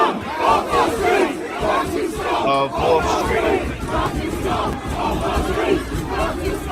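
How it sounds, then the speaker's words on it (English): A crowd of protesters shouts in the street during the 2024 Brighton riots, a loud, continuous mass of overlapping yells and chanting, with a brief tonal whine partway through and one voice speaking over it. "It looks like there's a whole crowd."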